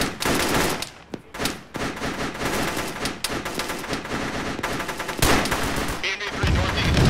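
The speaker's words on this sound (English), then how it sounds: "Tracer fire deck." Sustained tracer gunfire fills the air, loud, dense bursts of automatic shots with brief gaps between volleys, heavy and continuous, with faint voices underneath.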